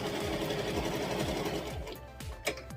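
A sewing machine backstitching the fabric of a tutu skirt, a close, fast, steady mechanical rattle that slows and stops near the end with a small clunk.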